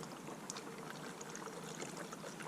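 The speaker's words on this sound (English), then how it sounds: "Watch what happens when I try to pour any fuel out of this can." Fuel trickling slowly out of a spill-proof gas can while refuelling heavy equipment, a faint, steady, continuous watery hiss with no talking.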